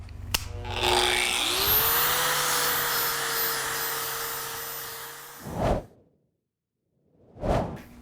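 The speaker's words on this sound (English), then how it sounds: "I'm taking off quite a bit of material here as I clean this up, 120 grit paper" An Arbortech SpheroPlane sands a wooden bowl with 120 grit paper, a steady whirring hiss with a rising motor pitch that runs for about five seconds, then stops, followed by two brief bursts of the same tool.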